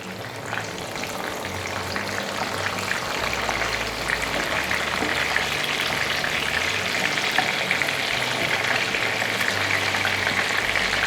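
Fish for fish and chips, already cooked on one side and turned over, sizzles in hot oil with a dense, steady crackle that stays loud and close throughout, with no voices.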